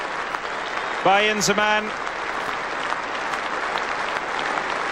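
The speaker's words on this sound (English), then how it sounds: "he walks off to a standing ovation here at Lord's Cricket Ground" A cricket crowd at Lord's Cricket Ground gives a standing ovation to a departing batsman after a century, sustained dense applause filling the ground while a commentator speaks briefly over it.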